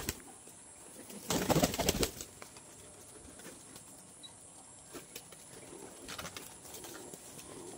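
Pet pigeons, including Sirazi, Giribaz and Jalali breeds, give a loud burst of wing-flapping followed by quieter rustling, scattered soft coos and small movements in a calm setting.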